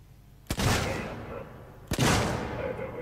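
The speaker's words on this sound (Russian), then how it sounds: "Да, это выстрел, чувак." Two loud, close gunshots in the video game Alien Isolation, about a second and a half apart, each a sharp crack followed by a long echoing boom.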